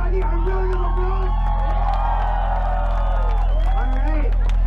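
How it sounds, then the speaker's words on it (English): Festival crowd cheering and whooping with some clapping, a loud continuous roar of voices over a heavy low rumble, with shouts rising and falling throughout. "Everybody, a round of applause."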